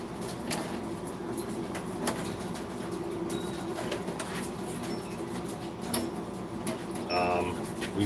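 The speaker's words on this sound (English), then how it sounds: "these are our grow out quail in this cage" Grow-out quail in a cage on an urban farm, giving faint chirps and short calls over a busy background with light rustling and clatter, quiet voices nearby.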